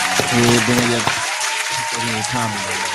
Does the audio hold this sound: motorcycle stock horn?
no